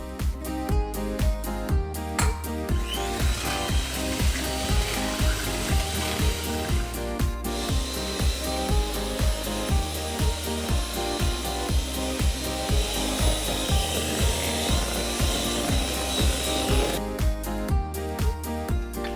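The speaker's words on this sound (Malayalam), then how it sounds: "ഒരു ലിറ്റർ ഡബിൾ ക്രീമിൽ 100 ഗ്രാം പഞ്ചസാരയും ചേർത്ത് നന്നായിട്ടൊന്ന് വിപ്പ് ചെയ്തെടുക്കാം." A litre of double cream being whipped with 100 g of sugar, a loud, steady whirring drone with regular pulsing beats that carries on unbroken for the whole stretch.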